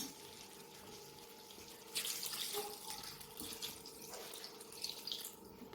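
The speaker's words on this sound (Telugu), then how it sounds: "ఇప్పుడు హాఫ్ బాయిల్ అయింది కదా, ఇందులో కొంచెం వాటర్ పోస్తున్నా" Water is poured into a half-cooked chicken curry in a pot, a soft splashing pour that swells then trickles away under faint kitchen ambience.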